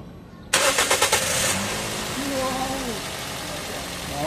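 A Toyota Vios engine cranks several rapid times, catches, then settles into a steady idle up close, with a short voice heard during the idle.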